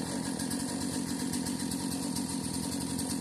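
A small Briggs & Stratton 4-cycle string trimmer engine, run on mixed fuel and with a seized throttle, drones steadily at a constant speed, close and alone with no voices.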